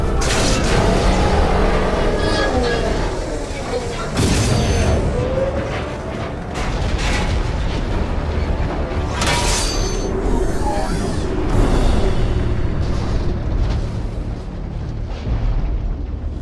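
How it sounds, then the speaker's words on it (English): Concussive shot blasts and heavy explosions erupt continuously in Mass Effect 2 combat, booming bursts and rumbling impacts stacked over dense battle noise for the whole stretch, loud and close. "Firing concussive shot! Shoot the damn tubes!"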